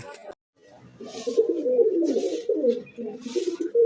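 Racing pigeons coo in low, throaty, rolling phrases close by just after landing from a long flight, with a few soft flutters and brief pauses between the calls.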